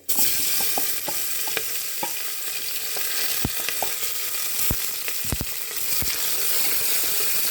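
Onions dropped into hot oil with cumin seeds, bay leaf, cardamom and cinnamon, bursting into a loud, steady sizzle with sharp spatula clicks and scrapes from stirring.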